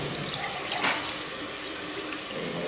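A glass of yakhni broth is poured into a pot of rice for beef pulao, giving a steady, close splashing stream of liquid that swells briefly partway through, with no talk.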